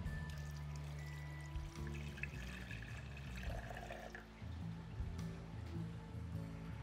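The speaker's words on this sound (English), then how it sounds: "So next thing we're gonna add is 1 cup of the apple cider vinegar right down the middle." Apple cider vinegar poured into an Instant Pot for BBQ ribs, a steady close liquid pour running for several seconds over a constant low hum.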